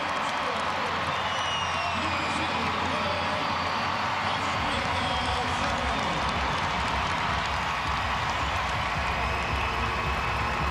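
A stadium crowd of more than 19,000 roars and cheers steadily after a goal in a U.S. versus Australia women's soccer match, with a dense, continuous wash of noise throughout.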